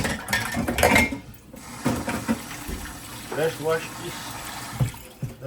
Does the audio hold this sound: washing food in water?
yes